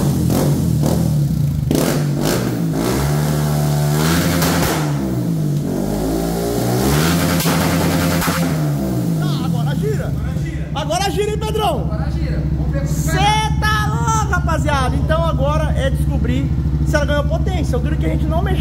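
Honda CB 300F Twister motorcycle with a programmable Athlon ECU, engine revving hard against a two-step rev limiter with repeated sharp rises and popping cutoffs, loud and close, with people talking over it.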